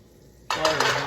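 Chopped onions hit a pan of melted butter, a sudden loud sizzle that bursts in and keeps crackling strongly up close.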